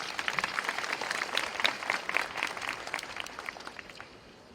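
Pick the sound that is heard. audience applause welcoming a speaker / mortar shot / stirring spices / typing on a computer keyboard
audience applause welcoming a speaker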